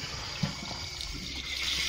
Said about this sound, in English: I'm going to wash off the side of it